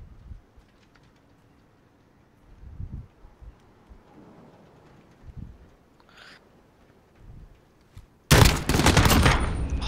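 A burst of gunfire erupts loud and dense near the end in Call of Duty Modern Warfare (2019), after several seconds of quiet thumps and faint shuffling.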